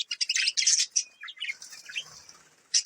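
Small finches chirp and tweet rapidly in a bird enclosure, with a red-eyed albino parrot nearby; dense, close, high-pitched bursts that thin out briefly before another flurry of chirps.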